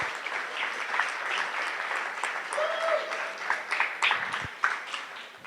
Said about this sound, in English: Round of applause for Jim for coming out and sponsoring.